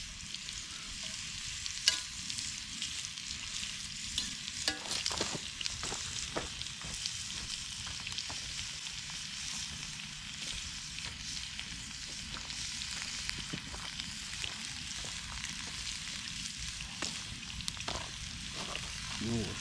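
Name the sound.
food frying with butter in a pan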